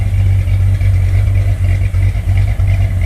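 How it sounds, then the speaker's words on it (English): A 1968 Corvette V8 idles close by with a crossover exhaust, a loud, even low rumble with a slight cam lope and faint clatter pulsing steadily throughout. "It's not lopey like it was with the natural carburation, but you can still hear the cam."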